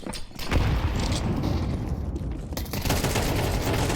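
Rifle gunfire from a Counter-Strike esports match: rapid, loud bursts of shots and booms pour out continuously, with dense overlapping fire and a sharp flurry near the end.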